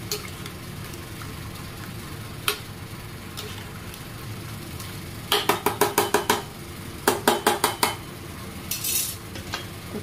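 A spoon stirs a pea masala in a pressure cooker, with rapid rhythmic metallic scraping and clinks in two short bursts over a steady background hum, close by.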